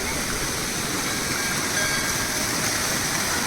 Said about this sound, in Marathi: नॅचरल वॉटरफॉल आहे बघू शकता तुम्ही